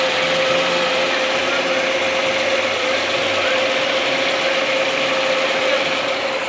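A 1964 Mercury Comet Caliente six-cylinder engine idles steadily and close by, with an even mechanical ticking and a constant hum that holds without a break.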